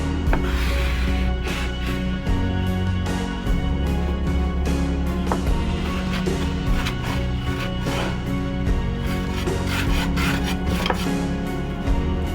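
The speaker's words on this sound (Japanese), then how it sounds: "これをカンナで仕上げていきます。" A hand plane smoothing a wooden panel for a camping spice box styled like a Minecraft chest, with repeated rasping strokes, close and steady, alone without talk.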